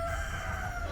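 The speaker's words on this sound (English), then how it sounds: "got interrupted by the chicken" A backyard rooster crows once, a short, bright cock-a-doodle-doo heard close and alone.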